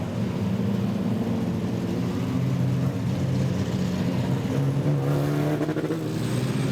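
Modified sedan race cars circle a speedway on a rolling lap, running nose to tail in a pack, a loud steady engine drone with harmonic tones that shift slightly as they pass, continuous with no talk.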